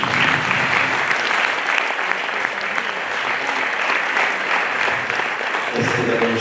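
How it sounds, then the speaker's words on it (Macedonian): A hall audience at an LP promotion breaks into loud, dense applause that holds steady for several seconds, a thick wash of many clapping hands. "Може аплауз за звуки."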